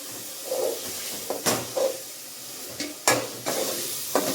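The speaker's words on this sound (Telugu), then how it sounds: "మనది మొత్తానికి గ్రేవీ అనేది బాగా చక్కగా వేగింది." Gravy fries with two biryani leaves in a pot for pulao and salan, a soft steady sizzle broken by several sharp scraping stirs of a spoon against the pot, with no talking.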